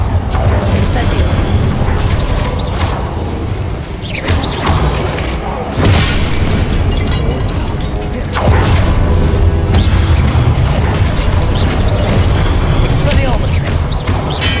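Fire spell being cast in the video game Hogwarts Legacy, a loud whooshing burst amid a dense, continuous wash of combat booms, crashes and game music.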